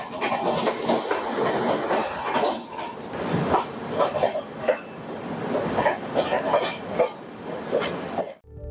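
Inside the newly refurbished Kanchankanya Express from Sealdah toward New Mal Junction, a continuous rolling rumble with rattles carries on throughout, with occasional coughs and murmuring voices in the carriage.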